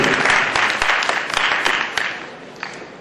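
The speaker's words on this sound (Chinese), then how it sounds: "怎么没有听到各位的掌声呢" An audience at a tourism talk gives a round of applause, a dense, fairly loud patter of many hands that holds steady, then thins and fades toward the end.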